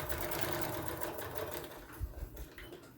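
A sewing machine runs steadily, alternating zigzag and straight stitches in a continuous motorized whir with needle clatter, fairly close, slowing and stuttering near the end.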